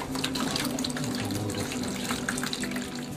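Water runs steadily from a tap, rinsing bleached vulture feathers, a continuous close splashing stream with no talk.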